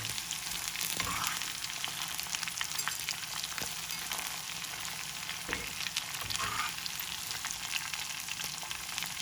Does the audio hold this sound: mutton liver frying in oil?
yes